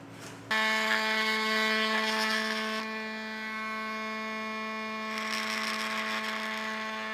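Power tool cutting a trim piece for a hidden hitch receiver install on a 2020 Audi, a steady buzzing motor whine with a harsh rasping edge, close and continuous after a sudden start.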